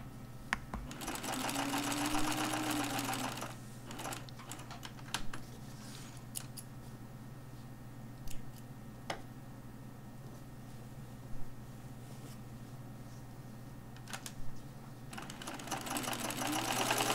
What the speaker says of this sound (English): Sew the shoulder dart in the back.